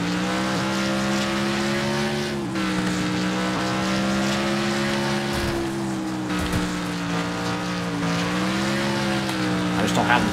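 Race car engine in Wreckfest revving unevenly as the throttle is feathered, pitch rising and dipping in waves, loud and continuous throughout, with tire noise and a voice talking over it.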